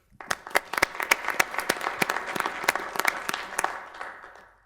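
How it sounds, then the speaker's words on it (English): A round of applause from the audience at a Fargo city commission meeting, made of distinct, fairly loud claps that thin out and fade toward the end. "I'd just like to give a round of applause to all people that were involved in that fire"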